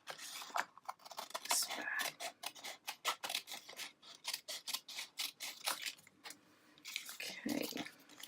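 Scissors snip through paper for a gift box in a rapid series of close, crisp cuts, with a quiet voice speaking over part of it.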